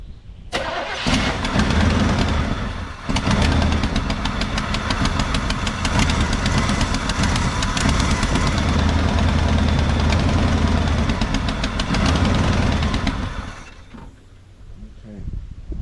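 A 1986 Chevrolet C-10 square-body pickup engine, brought back after long sitting, catches and runs roughly for about twelve seconds with loud, uneven knocking, a brief dip early on, then cuts out into quiet.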